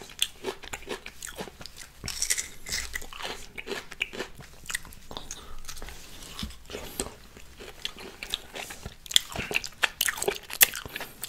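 Thai mixed pickled fruits eaten up close, with repeated crisp bites and crunchy chewing in an irregular rhythm, quiet and intimate, with no talking.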